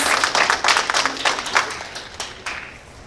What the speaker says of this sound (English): So give yourself an applause.